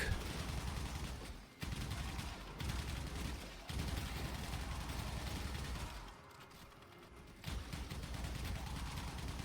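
Kuva Kohm shotgun firing in the video game Warframe: continuous rapid automatic blasts with mechanical clatter, broken by a few short pauses, fairly quiet overall.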